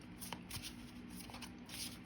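Tarot cards being shuffled by hand during a reading: soft, papery riffling and sliding in short repeated bursts, close and quiet, with no talking.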